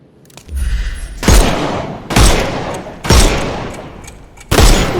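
Gunfire in the video game Sherlock Holmes Chapter One: four loud, heavy shot blasts spaced about a second apart, each a sharp boom with a long rumbling tail, alone without talk.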